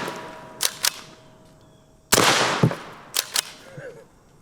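A Megalodon .50 caliber pump-action air gun fires one sharp, loud shot midway, set between a few lighter mechanical clicks from handling the gun at close range.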